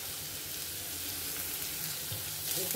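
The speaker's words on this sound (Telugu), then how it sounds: "గోల్డెన్ కలర్ వచ్చేంత వరకు వేపుకుందాం" Onions frying in a pan until golden give off a dense, continuous crackling sizzle, close and fairly loud, with a slight swell near the end and no voices.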